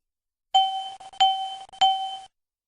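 Three electronic cockpit chimes from the master warning system of a BAe 146-300 / Avro RJ airliner, each a bright ringing tone lasting about half a second, evenly spaced and loud against silence.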